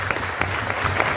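Loud, dense applause from an audience at a DXN motivational meeting, a steady continuous clatter of many hands close by.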